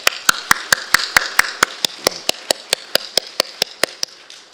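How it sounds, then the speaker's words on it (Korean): A church congregation applauds after a shared kimjang kimchi-making meal, heard as a steady, rhythmic run of loud claps that gradually fades, close and clear, with no talk over it. "특별히 김장에 수고해 주신 우리 모든 분들께 박수합시다"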